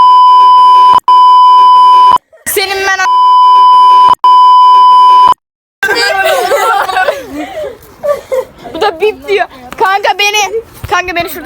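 Long, loud censor beeps cut in twice, separated by short gaps, and are followed by lively overlapping talk and laughter.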